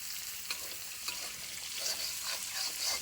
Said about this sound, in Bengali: তা আম্মু দেখো তেলের মধ্যে আলু দিয়ে দিল।